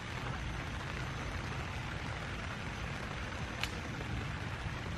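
Rain falling in a forest at night, a steady dense hiss of drops on the ground and leaves, even and continuous, with one brief sharp tick partway through.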